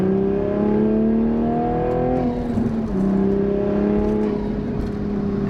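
A 2023 Toyota GR Supra A91 with a manual gearbox accelerates hard in third gear, its steady engine note rising continuously over several seconds with a brief dip midway, loud and close from inside the car.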